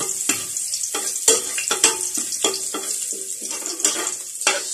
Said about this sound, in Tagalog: sunod na natin yung bawang mga idol. Okay, papulahin muna natin ng konti bago natin sunod yung sibuyas